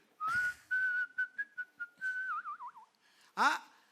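A person whistles a melody, imitating a cyclist whistling while riding slowly: a long held note, a string of short notes, then a warbling trill and a sharp rising whistle at the end. The whistling is clear and alone, with no talk.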